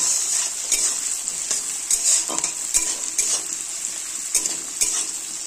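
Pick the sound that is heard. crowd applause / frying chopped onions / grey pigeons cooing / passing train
frying chopped onions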